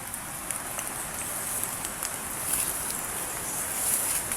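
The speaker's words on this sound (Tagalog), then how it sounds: "Nalakas yung ulan na." Heavy rain pours steadily over the surroundings, a dense even hiss of drops on surfaces that grows slightly louder toward the end.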